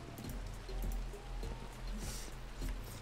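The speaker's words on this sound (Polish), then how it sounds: "Deszcz mi jako tego nie przeszkadza" Steady patter of rain in the game Minecraft, a dense, continuous wash of drops with small surges in loudness and a faint repeated low knocking beneath, without talk.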